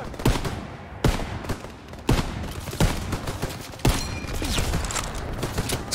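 Gunfire in Call of Duty WW2 during an ambush battle in the Ardennes, Belgium: a run of sharp, loud shots at irregular intervals, roughly one per second, over a continuous backdrop of distant battle noise.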